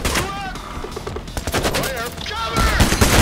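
Rapid, dense gunfire in Payday: The Heist, loud bursts of automatic weapons firing continuously under game voice lines and chatter.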